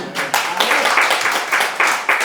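Church congregation clapping at a worship service, a dense burst of hand claps that swells and pulses in several waves, loud and fairly near, filling the room for a couple of seconds without any talking.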